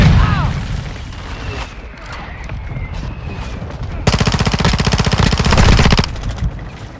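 A grenade explosion and automatic gunfire in a military shooter video game, with a heavy boom and then a loud, rapid burst of machine-gun fire lasting about two seconds, alongside game voices and background battle noise.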